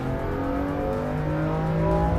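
A car engine in the racing game Assetto Corsa Evo drones loudly and steadily, its pitch climbing gradually under acceleration as the sound reverberates off nearby trackside walls.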